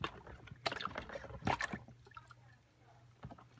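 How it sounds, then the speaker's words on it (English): A small turntable solenoid is lowered into a basin of soapy water, giving a couple of close splashes and faint trickles, then quiet gurgling while someone talks softly. "set this right down into the soapy water"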